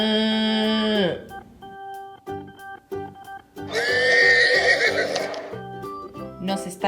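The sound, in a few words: horse neighing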